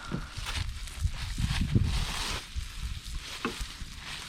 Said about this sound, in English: our steaks are cooking good